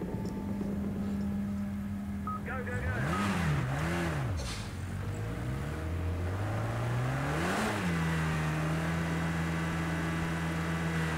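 Race car engine in the racing game Project CARS 2, leaving the garage at the Catalunya circuit: a steady idle hum rising and falling through several throttle blips and revs, close and prominent, with a faint whine layered underneath.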